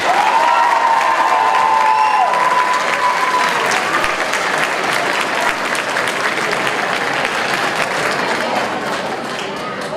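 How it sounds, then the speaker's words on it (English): An audience at a middle school awards assembly breaks into sustained, loud applause that fills the hall, with a few whistles and cheers rising over steady clapping. "Give them a round of applause, everybody."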